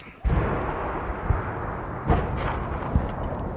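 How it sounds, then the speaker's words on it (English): Russian artillery shells burst close by in a besieged Ukrainian town, a heavy sustained rumble punctuated by several loud thuds at irregular intervals, with faint voices underneath. "Russian shells were very close"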